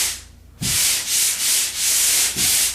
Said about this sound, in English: I can see exactly where to sand this because of the light.